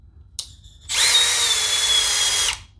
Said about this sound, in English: Here comes the drill.